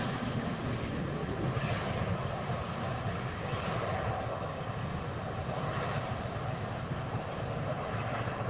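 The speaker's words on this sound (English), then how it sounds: "we've got a Southwest MAX 8 coming in for landing on 24 right" A Southwest Airlines Boeing 737 MAX 8 on approach to land on runway 24R at LAX, heard as a steady, broadband jet roar that stays constant throughout with some wind noise and no talking.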